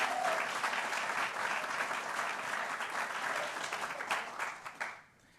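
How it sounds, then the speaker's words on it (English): An audience at a White House summit on chronic school absenteeism applauds for a student, a steady wash of many hands clapping that swells briefly near the end, then tapers off to near silence. "We clap for students in the White House."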